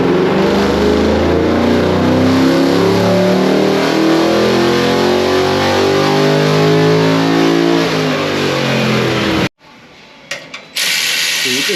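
A car engine revs hard on a hub dyno during a power run, a loud, continuous climbing roar with rising harmonic pitch that cuts off suddenly, then leaves faint clanks and mechanical noise.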